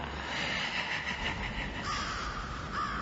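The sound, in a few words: crow cawing from Spirit Halloween Lord Raven animatronic prop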